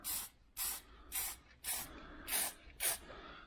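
Rattle can spray paint laying a light dust coat on Ford Fusion plastic: six short, evenly spaced hissing bursts from close by, each about a third of a second, with quiet gaps between them.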